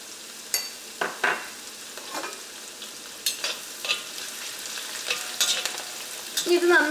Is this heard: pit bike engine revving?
no